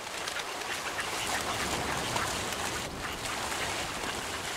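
Hundreds of ducks flocking in for a morning feeding, their dense overlapping quacks blending into a steady, continuous outdoor chatter with no pauses or talk.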